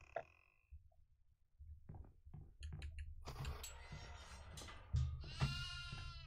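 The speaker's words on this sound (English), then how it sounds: "I have a goat." A goat bleating on a farmhouse in the horror game Devour, several loud wavering bleats near the end after quieter thuds and rustles, with people talking.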